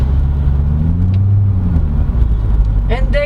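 A 2012 Chevrolet Corvette C6 Grand Sport with a Borla exhaust idles or cruises with a steady, deep rumble that holds loud throughout, and a brief voice cuts in at the very end.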